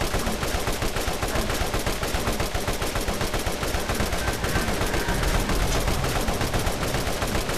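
Rapid, continuous automatic gunfire in the video game Borderlands, a dense unbroken rattle of shots that stays loud and steady throughout with no pauses.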